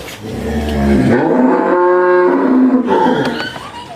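A cross-bred Friesian Gir dairy cow lets out one long, loud, close moo that rises into a sustained tonal call, alone without talk.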